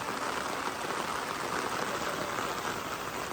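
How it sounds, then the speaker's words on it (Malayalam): Heavy rain pours steadily over a house construction site, a dense, unbroken hiss that stays loud and even throughout with no voices. "നല്ല മഴ കേട്ടോ"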